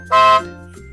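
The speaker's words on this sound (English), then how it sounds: "Horn went," A truck horn gives a single short, loud, tonal honk that cuts off after a fraction of a second, leaving a low hum behind.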